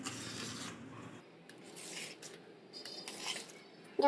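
A knife cutting cooked, crisp kothimbir vadi into pieces, a soft continuous rasping and scraping through the slab with a few firmer strokes, close and quiet, no voices.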